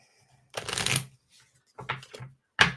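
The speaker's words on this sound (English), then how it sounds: "One more shuffle." A deck of cards is shuffled in three quick bursts, the first a long riffle, then two shorter flutters and a sharp final snap, heard close and clear with no talking.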